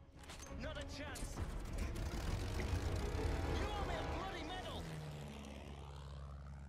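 Propeller airplane engine in the Battlefield 1 video game, a loud steady drone that swells and fades over several seconds while people talk over it.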